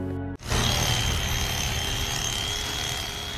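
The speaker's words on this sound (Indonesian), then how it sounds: "ia akhirnya memotong daging dengan gergaji senso" A chainsaw cutting meat in a film starts abruptly after a brief voice, then runs as a loud, steady, high-pitched whine and buzz that continues without pause.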